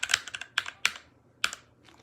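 Typing on a mechanical keyboard during a fast typing race: a few sharp, close clacks in quick bursts, separated by short pauses.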